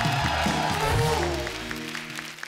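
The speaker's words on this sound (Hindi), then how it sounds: "विक्की पाजी के लिए जोरदार तालियां" Studio audience applause for Vicky Kaushal on a comedy talk show, with clapping and crowd noise over music that fades out, leaving scattered claps at the end.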